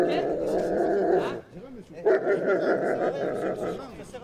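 A police canine unit dog barks and growls amid a crowd, its repeated harsh barks mixed with voices and general bustle during a police operation.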